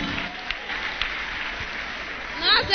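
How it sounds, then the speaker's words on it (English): A church congregation claps together, a soft, steady patter of many hands at moderate distance with a few sharper claps, a voice emerging over it toward the end. "Clap for Jesus."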